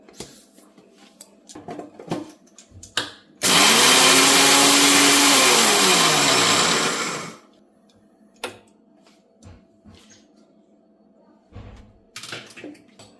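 A mixer grinder whirs for about four seconds as it coarsely grinds spices for a vegetable pickle. The motor is loud, close and steady, then winds down. Clinks and taps of kitchen utensils come before and after.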